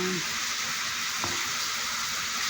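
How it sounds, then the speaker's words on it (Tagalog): Liver sizzling steadily in a hot pan, a constant loud hiss of frying with a brief clink partway through and a faint voice underneath. "Niluluto kong atay."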